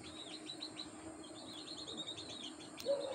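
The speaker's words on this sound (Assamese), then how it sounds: "এয়া কপৌ চৰাই পোৱালি হয় উৰিব নোৱাৰে ভালকৈ" A young pigeon chick that cannot yet fly well, indoors in a house, gives repeated thin high chirping calls in short bursts over a low background hum.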